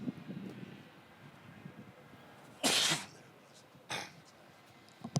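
A sharp, loud sneeze bursts out during a disc golf tour round in Cocoyoc, Mexico, followed a second later by a shorter, fainter sniff or snort against a quiet outdoor background.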